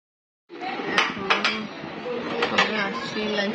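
Dishes washed by hand in a Bangladeshi home kitchen: clattering pots, pans and cutlery with sharp clinks and knocks over steady running water, starting after a short silence and continuing busily throughout.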